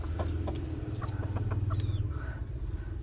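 A chicken clucks in short, sharp calls scattered over a low, steady background rumble, moderately close and fairly quiet.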